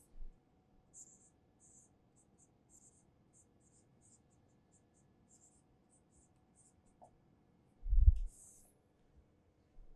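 Equations are written on a board during a thermodynamics lecture, heard as faint, short scratching strokes in a quiet room, followed by one louder thump.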